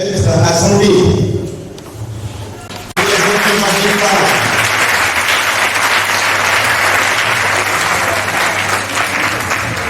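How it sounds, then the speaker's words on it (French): A hall audience breaks into loud, sustained applause at an award ceremony for an astrology master; a voice speaks over the opening seconds, then dense, even clapping fills the rest of the clip. "c'est parce que vous avez applaudi que Maître Azandé s'est levé"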